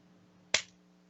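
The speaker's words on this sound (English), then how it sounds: "I was just clapping my hands together." A single sharp clap of hands, crisp and close, sounding once against a quiet background with a faint steady hum.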